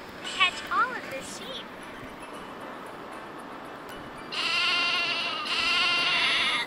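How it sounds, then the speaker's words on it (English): Sheep bleat loudly in a game, with a couple of wavering calls early on and then two sustained, overlapping bleats near the end, heard alone without talk. "We need to help her catch these sheep because she's sleeping."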